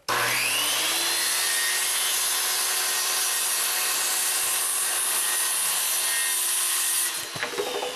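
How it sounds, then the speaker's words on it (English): Power saw cuts through wood while building a beehive, a loud, steady whining buzz held for about seven seconds before winding down and stopping. "I'm just going to line up my saw"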